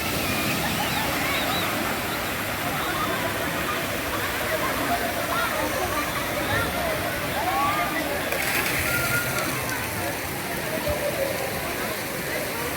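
Warm water fills a hot-spring swimming pool at Darajat Pass in Garut, West Java, giving a steady, loud, close rushing and splashing wash throughout, with voices faintly mixed in.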